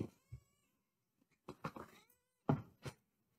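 A domestic cat meowing close by in a quiet room, several separate drawn-out meows and short chirps with pauses between them, alone with no talking.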